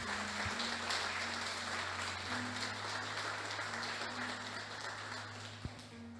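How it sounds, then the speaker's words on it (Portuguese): A church congregation applauds together in a steady, sustained wash of clapping that fills the room, moderately distant and even throughout, with a low hum beneath it and no speech. "Você pode dar uma salva de palmas para Jesus"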